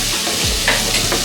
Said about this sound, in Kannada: ಈ ಪಲ್ಯ ಕಂಪ್ಲೀಟಾಗಿ ಎಣ್ಣೆನಲ್ಲೇ ಫ್ರೈ ಆಗಬೇಕು.